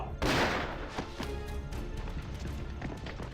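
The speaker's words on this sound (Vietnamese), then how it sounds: "Ai cho phép cậu nổ súng thật hả?" A single loud gunshot goes off in a war film, a sharp blast with a ringing tail, followed by scattered footsteps and movement thuds in the scene.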